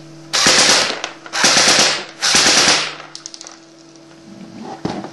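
A Galaxy MP5K airsoft gun fires full auto in three loud, close bursts, each lasting just under a second, followed by a few single clicks and a faint knock. No voices are heard.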